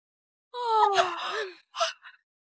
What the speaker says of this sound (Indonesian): aku cuma menguap.